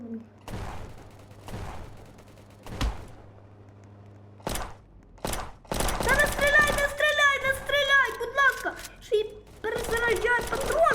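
Gunfire in a prison-themed video game: sharp isolated shots at first, then a dense, loud burst of rapid firing mixed with game sounds, with a voice talking throughout.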